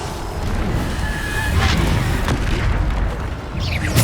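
In the video game Hogwarts Legacy, the Bombarda spell goes off as a dense, rumbling explosion with crackling bursts that hold steady at close range, and there is no talking.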